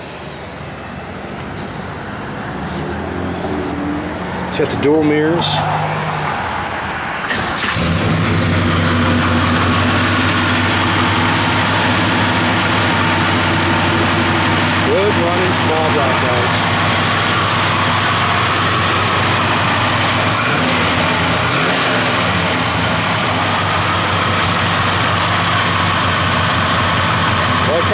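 A 1955 Chevrolet 150 engine cranks briefly, catches and settles into a loud, steady idle that runs on close by, with someone talking over it.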